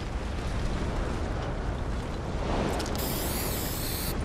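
Spray painting a logo in Fortnite, heard as a loud, steady hissing spray blended with dense game noise, with a brighter shimmering tone entering toward the end and no talking.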